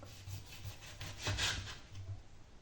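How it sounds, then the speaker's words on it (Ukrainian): A knife works through a lemon in a few short rasping strokes, close up, the loudest stroke near the middle, with no speech. "Кручу в руках лимон і не знаю, в який спосіб хочу порізати."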